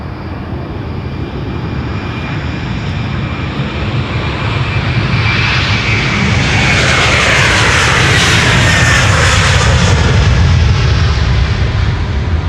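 A KLM Airbus A330-200 takes off from Amsterdam Schiphol, its loud jet engines roaring steadily and then swelling into a rising, broadband thunder as the airliner climbs away close by.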